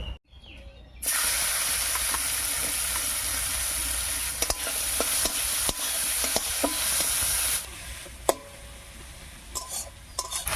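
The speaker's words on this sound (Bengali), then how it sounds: "এবার শুটকি মাছ ভাজার এই তেলের মধ্যেই দেবো একটা বড় সাইজের পেঁয়াজ কুচি" A large batch of chopped onion goes into the mustard oil left from frying dried fish, setting off a sudden loud sizzle that hisses steadily while a utensil stirs with light clinks, easing slightly toward the end.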